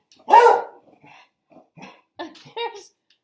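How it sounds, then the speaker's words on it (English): A dog barks several times, one loud bark followed by a series of shorter, quieter barks and yips, close by with no other sound. "oh, my dog's going to start barking."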